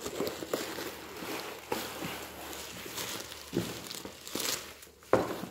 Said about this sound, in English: I'll just unwrap it